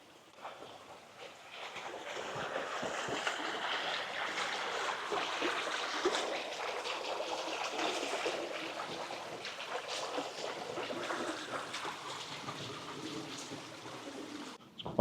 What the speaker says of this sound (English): It actually sounds like there's a waterfall over there somewhere,